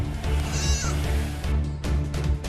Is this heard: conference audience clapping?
no